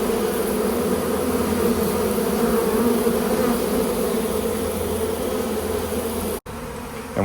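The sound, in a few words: honey bee swarm buzzing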